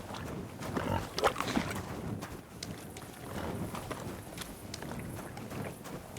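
Pigs grunt and snuffle in a pig pen in the video game Kingdom Come Deliverance 2, a steady, close, textured rustle of animal noises over low game ambience.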